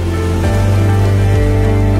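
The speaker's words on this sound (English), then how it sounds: "Italy is raining heavily tonight." Heavy rain falling at night in Venice, Italy, a loud, steady, dense hiss with a low rumble underneath, continuous and close throughout.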